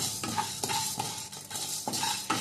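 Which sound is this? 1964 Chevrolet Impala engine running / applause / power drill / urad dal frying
urad dal frying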